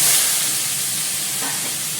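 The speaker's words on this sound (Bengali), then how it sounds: "এবার নিরামিষ তরকারিটা দিয়ে দেবো এর মধ্যে।" Vegetable curry hits hot oil seasoned with black cumin in a pan, setting off a loud, steady sizzling hiss that bursts at first and then settles into even frying.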